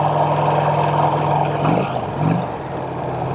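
A Vincent Rapide motorcycle engine running on the road, a loud, steady low throb with a slight dip and swell as the revs shift, heard up close and alone.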